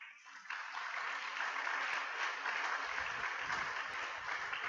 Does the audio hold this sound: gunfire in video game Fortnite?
no